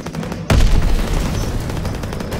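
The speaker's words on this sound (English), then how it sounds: "Toss it out a grenade." A grenade explosion in Call of Duty WW2 multiplayer, a sudden loud blast about half a second in that decays into rumbling battlefield noise with scattered gunfire.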